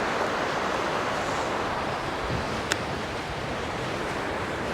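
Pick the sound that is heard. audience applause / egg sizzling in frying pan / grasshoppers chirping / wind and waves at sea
wind and waves at sea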